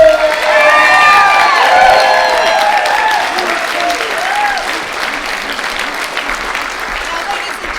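Audience at a Harbor Town Players community theatre production of Yooper and the Beast applauds and cheers for the actor playing Yooper, with dense sustained clapping, whoops and shouts filling the room throughout and tapering slightly toward the end.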